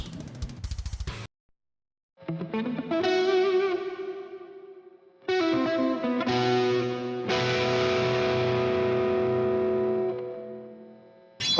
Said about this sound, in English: the only other tone I had to show off is the crunch tone I made